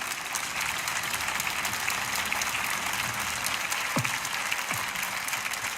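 Audience applause at a French innovation event with President Emmanuel Macron, a steady dense patter of clapping from a crowd, holding even and fairly close throughout with no voices over it.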